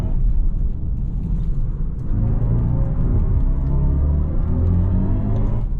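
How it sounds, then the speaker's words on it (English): A 2023 BMW i4 M50 electric car plays its synthetic driving soundtrack while under way, a steady low humming rumble with layered tones that swell slightly after a couple of seconds, heard alone without talk. "And that added soundtrack is just so darn cool."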